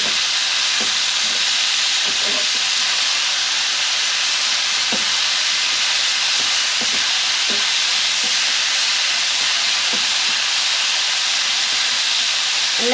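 Beef cheeks and broccoli fry in a pan with a continuous loud hiss and sizzle, with scattered crackles and pops close by and no talk.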